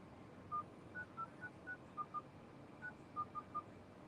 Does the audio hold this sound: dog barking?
no